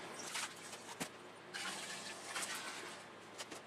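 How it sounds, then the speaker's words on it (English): Cold water pours into a fermenter tank for home brewing, a continuous rushing, splashing flow with a few sharper splashes, close and fairly quiet. "pot number one of my the cold water going into my fermenter tank"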